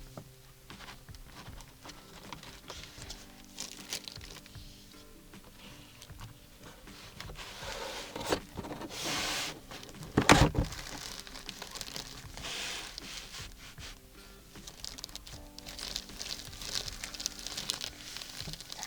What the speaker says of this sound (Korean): 이렇게 비닐에 쌓인 실버 버튼 꺼내봤는데요.